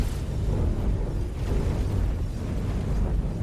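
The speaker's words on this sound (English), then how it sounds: "Explosion imminent. Yeah, there it goes." A large explosion in a video game, a loud sustained rumbling roar with deep low-end boom that persists for several seconds without talk.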